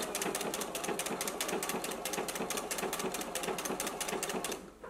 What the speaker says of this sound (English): let's go ahead and stitch the elastic back onto the skirt